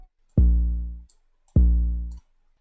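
Two long, booming 808 bass notes in a hip-hop beat, each starting with a hard attack and sustaining about three-quarters of a second before cutting off, separated by a short silence, loud and alone.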